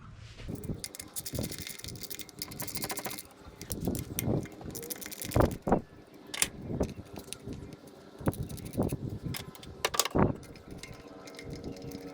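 Wrench and bolt work on the distributor cap of a 1998 Honda Civic, with scattered metallic clicks, ratcheting and light clanks at close range, irregular and moderate in level.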